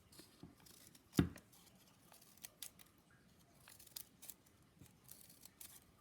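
Scissors snip through folded paper while a paper snowflake is being cut, with one sharp, loud cut standing out near the start and a few quieter snips and paper rustles scattered through the rest.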